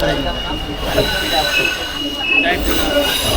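A Narayanganj commuter train rolls along with a constant loud rumble of wheels on track, steady clatter and faint squeals heard from inside the carriage, with voices murmuring underneath.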